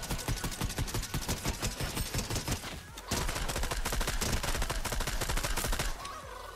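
Rapid automatic gunfire in Fortnite aimed at a supply llama, a dense rattling stream of shots that briefly pauses, then resumes at full volume before cutting off near the end.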